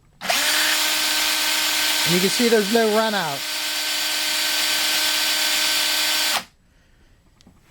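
A power drill whirs steadily at close range for about six seconds, spinning a rolling pin sander, a high mechanical whine, while someone speaks briefly over it.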